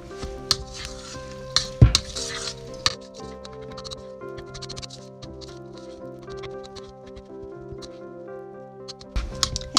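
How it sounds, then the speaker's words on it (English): Biscuit mix and sugar for Danish apple bars being stirred together in a bowl inside an RV, with soft scraping and patting strokes, a few sharper knocks, close and fairly quiet. "Then we're just going to mix it up."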